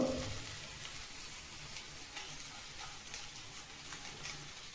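Pounded chana dal stirred into cauliflower frying in a pan, a soft, steady sizzle with gentle crackling, close and alone.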